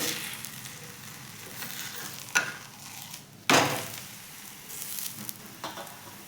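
Dhapate flatbread fries steadily in oil on a pan, a continuous close sizzle broken by two sharp clicks or clanks midway, with no voices.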